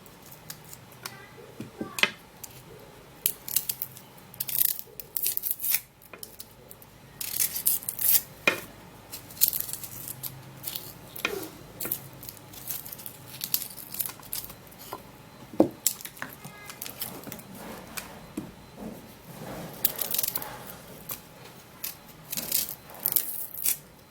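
Onions being cut and prepared for juice, an irregular series of knife taps, scrapes and soft squishy sounds on a board, close and moderately loud, continuing steadily with brief pauses.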